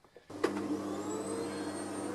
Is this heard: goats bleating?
no